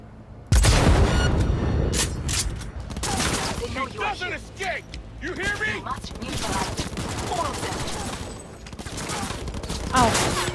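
Rapid bursts of gunfire in the Cyberpunk 2077 video game, loud, dense volleys that crackle on and off through the whole stretch, with someone talking over the shooting.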